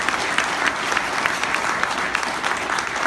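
Crowd applause at a town hall meeting on the Great Redwood Trail held at a university, a loud, dense, continuous patter of many hands clapping, close and steady throughout.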